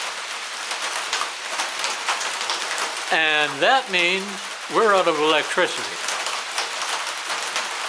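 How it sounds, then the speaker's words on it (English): Heavy rain pours down steadily, a dense close hiss of drops on surfaces running throughout, while someone talks briefly over it in the middle. "There was a lot of rain coming down."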